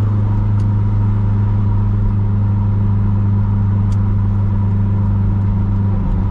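A 400-horsepower Toyota MR2, its engine humming at a steady, loud, close drone with a continuous low rumble and no clear rise in revs throughout, with a couple of faint clicks and no voices.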